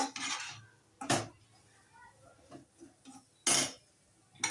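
A spoon scrapes and clinks in a pan while chana dal, spices and onion are stirred and sautéed, in a few short, quiet bursts separated by near silence.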